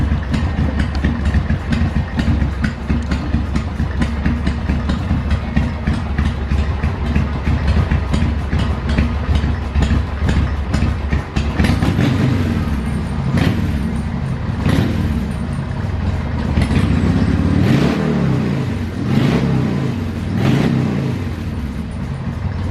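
A club-style Harley-Davidson Sportster 1200 motorcycle engine runs close by with a deep, loud rumble, settling into a lumpy idle and then giving several sharp revs that swell and fall back.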